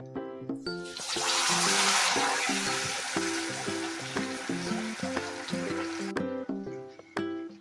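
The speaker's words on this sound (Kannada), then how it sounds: "ಎಣ್ಣೆ ಚೆನ್ನಾಗಿ ಕಾದ್ಮೇಲೆ ನಾವು ಮೀನು ಹಾಕೊಬೇಕು" Bangda mackerel fish frying in hot oil, a loud steady sizzle that bursts up as the fish goes in and then settles into a crackling hiss, with background music playing throughout.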